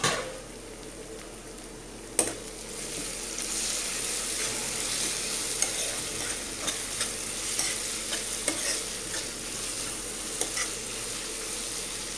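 Onions sautéing in a pan for a Kerala-style chicken roast, a steady close sizzle broken by a sharp lid or spoon clank near the start and scattered scraping stirs, with no voices.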